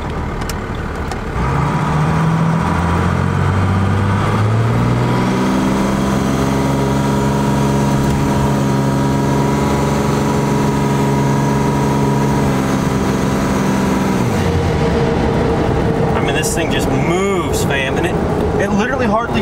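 A turbocharged car running a new turbo at 45 psi accelerates hard at full throttle. The loud, close engine tone climbs steadily in pitch, then holds a sustained roar, and a voice talks briefly near the end.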